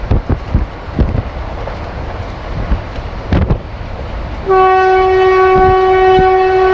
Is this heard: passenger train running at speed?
yes